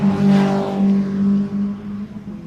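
MG race car at a club qualifying session storms through a corner, a loud engine note that climbs, dips briefly and pulls again, close and alone.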